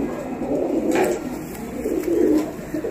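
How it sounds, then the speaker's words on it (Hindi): A Sialkoti pigeon coos nearby in soft, low, rolling phrases, repeated a few times over a quiet background. "ये सियालकोटी कबूतर है।"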